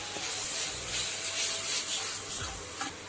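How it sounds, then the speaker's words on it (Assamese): Moong dal frying in a pan with red chili, turmeric and other ground spices, a steady close hiss and sizzle with faint scraping, running without pause. "এই মছলাৰ লগত মুগ দালিখিনি অলপ ভাজি ল'ম"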